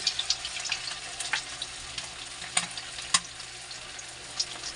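Chicken fries in hot oil with a steady, close crackling sizzle, punctuated by occasional sharper pops and faint utensil clicks; no voices.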